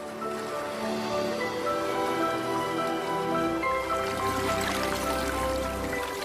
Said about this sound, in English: thousands of small trickles coalesce into a burgeoning river, eventually reaching the desert